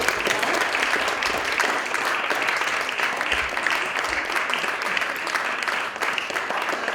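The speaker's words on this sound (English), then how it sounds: "Can we have a round of applause, please, for us?" Sustained audience applause after an evening debate on belief in God, a dense, steady wash of many hands clapping throughout at even loudness, with no voices standing out.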